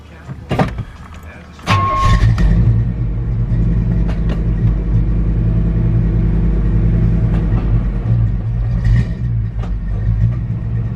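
Old truck engine struggling at a loud rough idle, near its dying point with the temperature gauge climbing, a steady low rumble that surges in after a brief clunk and keeps running, wavering slightly as the throttle is feathered.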